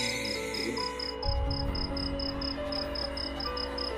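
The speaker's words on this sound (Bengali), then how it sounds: "ঝিঝি পোকার শব্দ হচ্ছে" Crickets chirp at night outside a window in a village, a loud, evenly pulsed high trill repeating steadily over a low background hum, with no voices.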